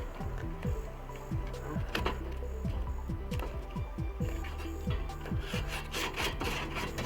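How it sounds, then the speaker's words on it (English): A grill scraper rasps back and forth over a grill grate in quick, steady strokes with scattered clicks and knocks, close and moderately loud throughout. "just gonna go ahead and scrape all around the grill."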